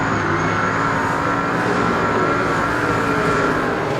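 Speedway race cars on a dirt track roar together in a dense, continuous, loud engine wash without a break, a steady blaring din with no distinct passes.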